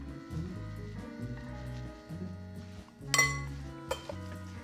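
Shrimp get mixed with a spice blend in a bowl, giving close, bright clinks and scrapes of a utensil against the bowl over a low background hum, with one sharper clatter near the end.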